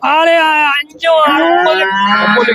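A cow moos loudly at a busy cattle market, two long, full, harmonic-rich calls separated by a brief pause, close and clear with little else around.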